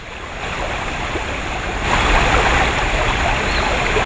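Water rushes through a purification system in a steady, dense, hissing flow that swells slightly louder midway and runs on without talking before stopping abruptly.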